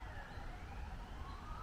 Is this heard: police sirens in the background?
yes